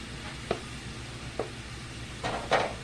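Chicken gravy being stirred as flour goes into the pan drippings over medium-low heat, a faint steady sizzle broken by a few soft scraping strokes of the spoon against the pan.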